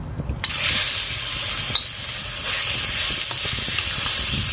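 Marinated meat drops into hot oil in a pan while kimchi fried rice is being made; after a brief quiet start, a loud, continuous sizzle and hiss takes over and holds steady close by.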